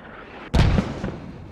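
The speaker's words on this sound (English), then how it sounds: "Here goes the mortars. They're short." A single mortar round lands short in a military tactical shooter game, a sudden loud boom after quiet ambience, followed by a short rumbling tail and a fainter secondary thump.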